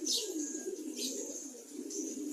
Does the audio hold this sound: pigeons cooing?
yes